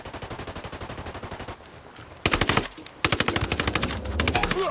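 Rapid automatic gunfire from the video game Ghost Recon Wildlands, loud and close, in steady rhythmic bursts with a short lull in the middle before heavier volleys resume.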